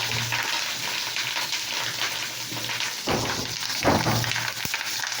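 Fish frying in hot oil in a pan, a steady close sizzle and crackle that runs unbroken throughout with brief louder spatters, no voices.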